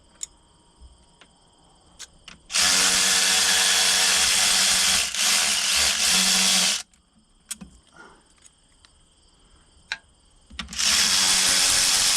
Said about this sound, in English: Just get these broke loose and I'll put my electric ratchet on them.